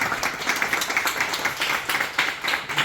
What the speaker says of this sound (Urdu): ان کے لیے بہت سی تالیاں اور وہ 2 الفاظ ہیں.